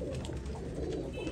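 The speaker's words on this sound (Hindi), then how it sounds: "बड़े बड़े शानदार रॉयल टैडी कबूतर।" Several Royal Teddy pigeons coo steadily at close range in a breeding setup, a low, continuous throaty murmuring with overlapping calls.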